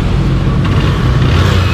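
Motorcycle engine idling steadily and close by after a spark plug repair on a delivery rider's bike, a continuous low rumble with no voices over it.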